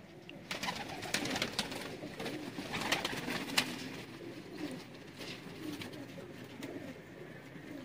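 A Sialkoti breeder pigeon coos in a low, soft, repeated murmur, close by, among some rustling and faint clicks, with no clear talk.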